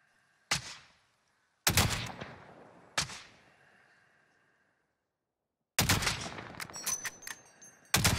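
Gunfire in Call of Duty: Modern Warfare: sharp single shots, then a sustained burst of rapid fire near the end, loud and close, separated by quiet gaps.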